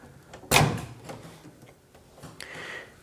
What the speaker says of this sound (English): we're just going to open up our door.